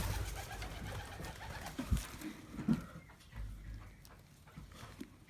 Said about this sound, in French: là il y a mes tourterelles qui sont en train de faire un nid